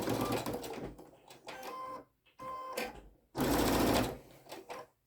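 A sewing machine stitching through six layers of fabric for a welding cap, running in short bursts of rapid mechanical whirring with quiet pauses between, close and fairly clear.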